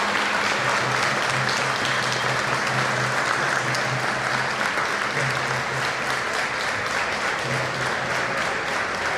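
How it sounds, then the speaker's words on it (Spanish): Steady, loud applause from an arena crowd for a female taekwondo athlete from the Dominican Republic at the Santo Domingo 2026 games, continuous and dense throughout with a faint commentator voice beneath it. "Claro que los aplausos para ella"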